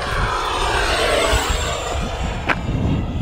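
An E-flite F-16 Falcon 80mm EDF RC jet blasts past with its landing gear up, a loud, steady ducted-fan roar with a brief sharp peak as it passes close.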